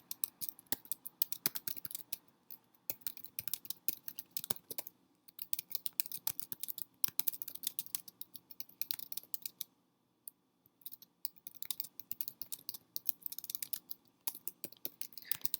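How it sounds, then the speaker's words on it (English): Steady bursts of crisp clicks from typing on a computer keyboard, running in short runs with brief pauses near the five- and ten-second marks, close and fairly quiet, with no voices. "all you do is you type in here"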